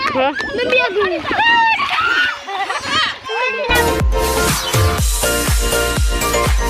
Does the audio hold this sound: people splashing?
yes